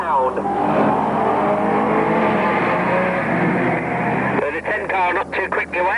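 Hot rod race cars roar off the start line at a short-oval meeting, one car spinning its wheels; a loud, continuous engine drone fills the scene, with a voice faintly audible beneath.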